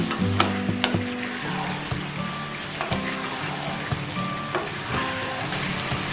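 Chicken with turmeric, chilli powder and chopped capsicum is sautéed for a Bengali chicken kosa, a continuous sizzle punctuated by repeated spoon scrapes and knocks against the pan.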